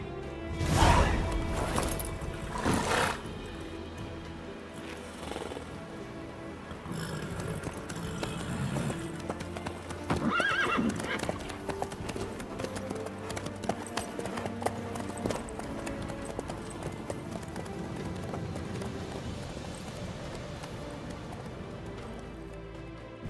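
Horse hooves from The Witcher 3 video game, a continuous rhythmic clip-clop of a trotting horse at close range, steady and fairly loud over ambient game sound and music.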